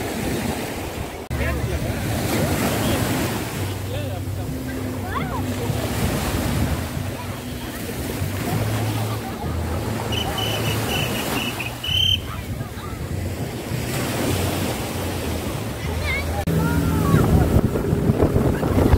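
A boat moves across the sea off Lumut beach in Malaysia, with waves washing and wind rumbling continuously, a low engine drone underneath, and some voices faintly mixed in.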